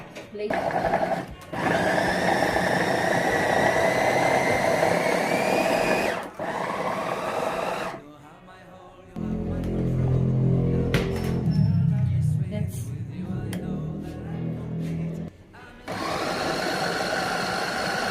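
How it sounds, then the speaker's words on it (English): An electric blender grinds ingredients for a Kenyan nyama choma chicken and goat meat marinade, running loud and continuous with a couple of brief pauses, then a quieter stretch of clattering and handling before the motor roars again. "I want to make it finer than fine, so we continue blending."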